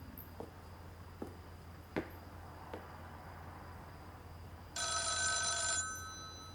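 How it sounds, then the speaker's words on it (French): An apartment telephone gives one brief electronic ring burst, clear over a quiet room with a low hum and a few soft clicks and taps beforehand. "le téléphone de l'appartement sonne"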